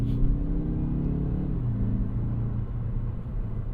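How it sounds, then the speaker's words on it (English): A 2024 Mazda 3 Turbo AWD engine revs with a deep, aggressive rumble, its tone shifting mid-clip before settling into a steady low drone, heard alone from inside the car. "Very aggressive sounding engine noise."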